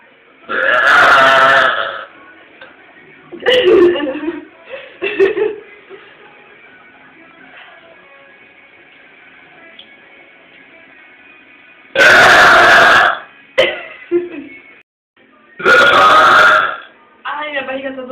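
A Brazilian woman belches loudly in a series of long, deep eructations, several spaced bursts across the stretch with quieter gulping and throat sounds between, close and dominant.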